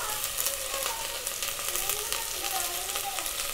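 Curry leaves dropped into oil with frying vegetable fried rice in a home kitchen, giving a steady, close crackling sizzle with tiny pops throughout.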